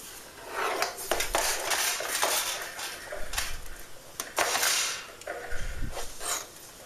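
Metal pans of freshly baked homemade bread clank and rattle as they are flipped over onto a towel, with several bumps and scrapes spread unevenly, close and fairly loud.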